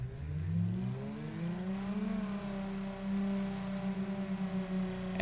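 A simulated V6 Ford Mustang engine runs at full throttle, its steady, moderately loud hum climbing smoothly in pitch as it revs up and then holding a high, even drone.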